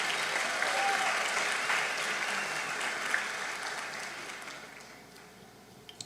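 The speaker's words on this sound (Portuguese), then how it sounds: "Pode aplaudir." A church congregation applauds together in a sustained wave of clapping that fades toward the end, with a few last claps trailing off.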